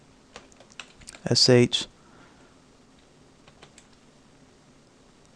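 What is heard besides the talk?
typing a command on a computer keyboard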